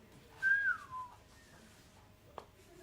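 A single person gives a short whistle, a bright gliding tone that rises then falls, followed by a softer second note against a quiet room background with a faint click near the end.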